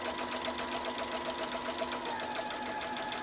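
A Baby Lock Jubilant sewing machine runs steadily, its needle stitching with a fast, even mechanical rhythm throughout, close and continuous with no voices.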